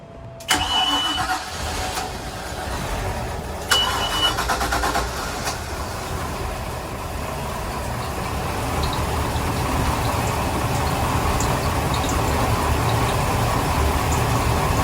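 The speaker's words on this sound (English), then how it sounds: "let's go ahead and fire these engines off" The engines of a 2005 Sea Ray 320 Sundancer boat crank and catch after a brief starter whine, then settle into a steady, loud rumbling idle that holds throughout, with no talking.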